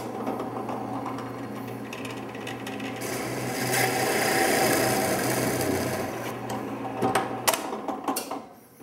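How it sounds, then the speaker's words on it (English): A 1-inch brad point bit drilling a counterbore into a clamped sacrificial wooden piece, a steady close grinding and whirring that swells in the middle and ends with a few rough scraping bursts. "I'm going to put a counter bore in this sacrificial piece"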